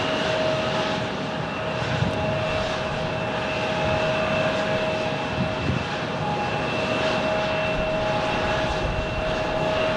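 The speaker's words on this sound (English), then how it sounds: "Next arrival is Frontier 2613 from Denver on an A320neo." Frontier Airbus A320neo jet arriving at Tucson airport, a steady, loud engine roar with a sustained whine holding evenly through the whole stretch, no talk over it.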